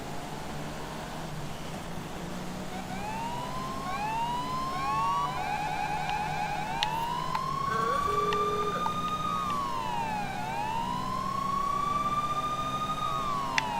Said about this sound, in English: Oh god, I'm hearing 2 sirens.